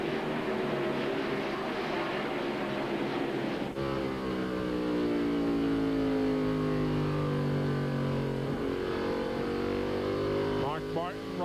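NASCAR stock cars race through a corner at the 1998 CMT 300, their engines a loud, continuous harmonic whine that sweeps downward in pitch as cars pass, with a sharp shift partway through and more cars following.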